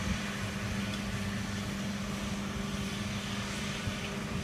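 A tractor engine drones steadily outdoors at a moderate distance, a continuous low rumble with a faint hum and no speech over it.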